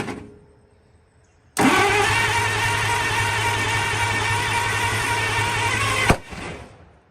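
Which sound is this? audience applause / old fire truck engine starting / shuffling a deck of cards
old fire truck engine starting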